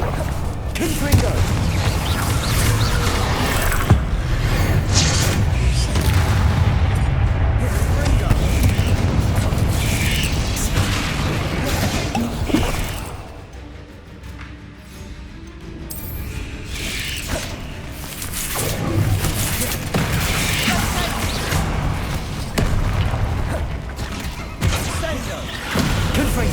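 Confringo and Bombarda spell explosions in the Hogwarts Legacy video game: repeated booms and crashes over a dense, loud combat backdrop, with a brief lull midway before the blasts resume.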